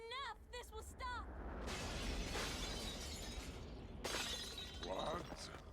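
Loud glass shattering in a film scene, a sustained crash with a second burst of breaking, over a busy soundtrack with shrill vocal sounds at the start.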